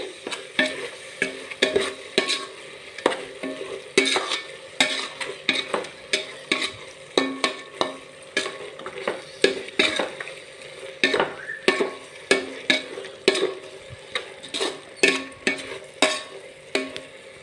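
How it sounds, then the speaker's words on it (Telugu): Ghee-roasted wheat flour is stirred into a carrot laddu mixture in a pan: steady, rhythmic scraping strokes at close range with a soft sizzle beneath, continuing evenly throughout without any voices. "నేతిలో వేయించుకున్న గోధుమ పిండిని వేస్తున్నాను ఇప్పుడు చక్కగా మొత్తం కలుపుకోవాలి"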